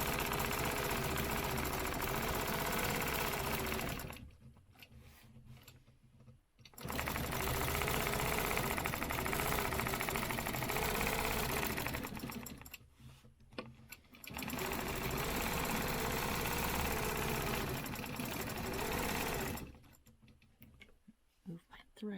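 A sewing machine stitches a straight inside line on a quilted stencil project, running in three loud sustained bursts separated by brief pauses, close and steady.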